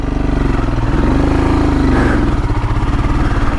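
A Royal Enfield Himalayan motorcycle accelerates in second gear on a green lane, its single-cylinder engine thumping loud and close, with pitch climbing steadily throughout.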